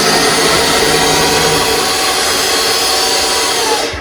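A portable electric hoist winch runs with a steady, loud motor whine and broadband drone, continuous for about four seconds before tapering off at the end; no voices.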